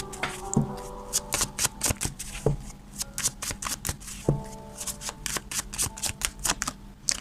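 Tarot cards are shuffled close by, a run of rapid crisp snaps and riffling clicks in uneven bursts, with no talking.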